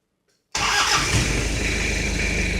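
A 30-year-old Toyota 4x4 with serious problems cranks and fires up abruptly after a moment of silence, settling straight into a loud, steady, close engine run.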